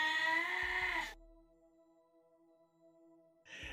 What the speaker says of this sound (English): are different levels of screams from this goat